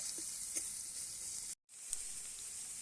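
Chopped onion, green chili and ginger fry in a pan with a soft, steady sizzle and a couple of light stirring taps, cut by a brief moment of silence.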